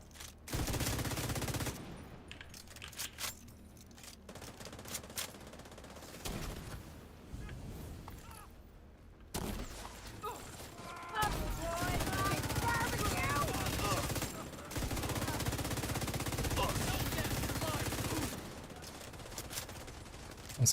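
Gunfire in the video game Assassin's Creed during PvE combat, bursts of rapid shots coming and going over about twenty seconds, with a voice talking intermittently over the shooting.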